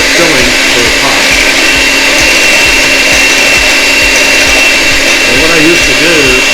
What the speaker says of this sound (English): Back on the mixer.